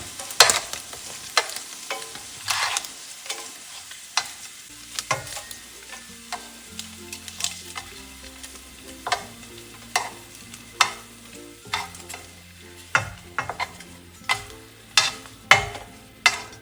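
Ingredients for a palak paneer dish are stir-fried in a pan, with repeated sharp spatula scrapes and clanks at an irregular rhythm over a low, steady sizzle, close up and without talk.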